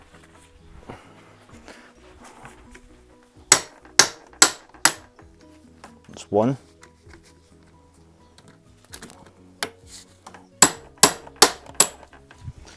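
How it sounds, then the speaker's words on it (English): Sharp hammer blows come in quick bursts of four or five, separated by pauses, with a short spoken remark in between. "I need a bigger hammer because that hammer's no use."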